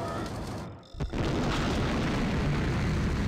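An explosion in The House of the Dead 3 arcade game: after a brief lull, a sharp boom bursts in and gives way to a loud, steady rumbling roar that continues to the end.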